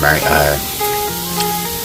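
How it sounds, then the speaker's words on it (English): Close, steady sizzling of chicken frying in a hot skillet, with a voice talking over it. "so that way you have that nice good sizzle"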